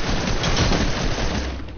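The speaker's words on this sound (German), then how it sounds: "Die Waffe ist so lächerlich, diese MP." Rapid submachine gun fire in the tactical shooter Squad, a dense sustained burst that stays loud and close for nearly two seconds before easing slightly.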